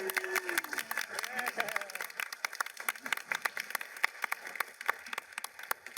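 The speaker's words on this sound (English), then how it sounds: "Can we just give a quick round of applause for Cherry?" Audience clapping at a San Japan 2023 anime expo panel, a scattered round of claps in a large room following a cosplayer introduction, with voices and chatter mixed underneath.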